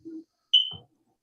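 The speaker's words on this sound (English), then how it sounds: "Stupid smoke alarm." A household smoke alarm gives a single sharp, high chirp, brief and fairly close, between short low thumps in an otherwise quiet room.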